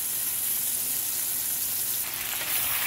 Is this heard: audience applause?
no